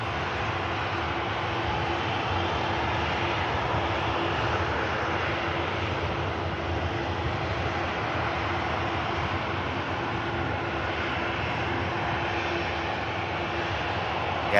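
A Cathay Pacific airliner taxiing at Manchester Airport on a rainy day, giving a steady, continuous jet engine whine and rumble at a moderate distance with no talking.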